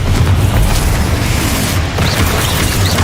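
A Bombarda blasting spell explodes in Hogwarts Legacy amid rapid combat spellcasting, a continuous, loud roar of booming blasts and rumbling debris with no pause, close and dense throughout.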